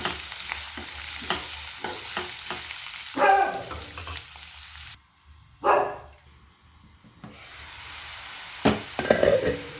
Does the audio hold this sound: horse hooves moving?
no